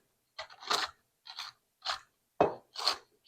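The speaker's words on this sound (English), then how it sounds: "we are chopping 1/2 cup of walnuts" A knife chops walnuts for banana bread, giving about six short crunchy cuts in an uneven rhythm, close and fairly quiet with silence between strokes.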